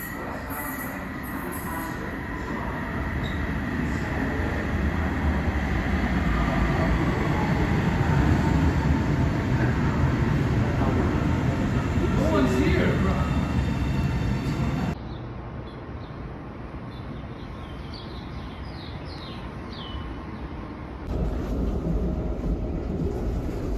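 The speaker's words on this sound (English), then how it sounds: "What do you think of the train?" Passenger train heading to Quebec City, heard from inside with a loud continuous rumble of wheels on rails, a squeal partway through, then a sudden drop in level and a later rise.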